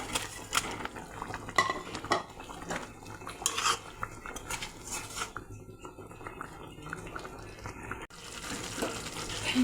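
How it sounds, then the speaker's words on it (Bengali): Fried fish goes into boiling curry in a pot, heard as close, repeated clinks and scrapes of a metal utensil against the pot, with watery splashing and stirring in between. "ঝোল ফুটে গেছে, এখন ভেজে রাখা মাছ দিয়ে দেব।"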